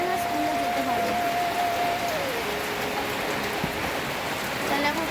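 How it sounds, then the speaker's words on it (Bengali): A constant, fairly loud wash of rain beats down on surfaces, unbroken from start to finish, while faint talk and a brief tonal sound sit low beneath it. "কিন্তু আজকে যে বৃষ্টি পড়ছে"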